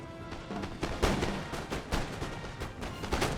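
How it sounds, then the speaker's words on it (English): Howitzer artillery in a Napoleon Total War battle, a rapid series of booming blasts and cracks layered over one another at irregular intervals, loud and dense with no break. "Oh, howitzers."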